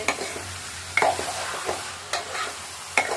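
A spoon stirs a simmering vegetable labra curry with coriander leaves and green chilli: a soft sizzle runs under a few sharp scrapes and clinks against the pot, with no talk.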